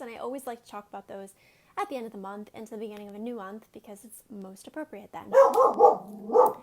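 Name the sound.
dog barking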